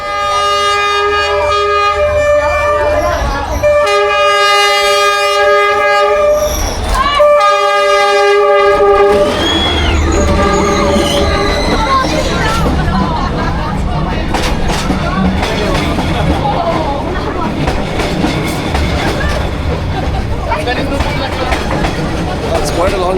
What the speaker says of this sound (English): That's quite a long train, huh?